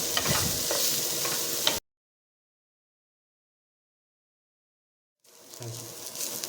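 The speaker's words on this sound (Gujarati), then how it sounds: "તો બધું જ 4 થી 5 મિનિટ જેટલું આપણે સાતળી લઈશું" Capsicum, green chillies and ginger paste sauté in a pan with a steady close sizzle and stirring scrapes, cut by a long silent gap before the frying hiss returns.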